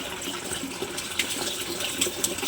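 Water runs out steadily with a close, continuous splashing rush, a few brighter droplet splatters standing out over the flow.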